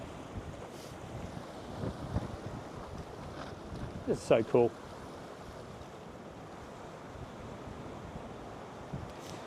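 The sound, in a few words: wind blowing at the shore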